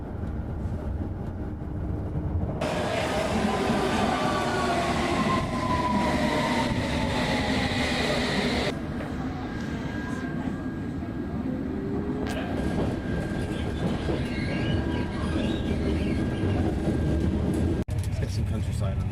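Passenger train running towards London Paddington, heard from inside the carriage as a continuous rolling rumble with a faint whine, while people talk over it.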